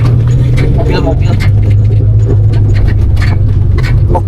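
Cars stream past close by on a road between Bandung and Tasikmalaya, a loud, steady engine and tyre rumble with no clear gaps, while people talk over it.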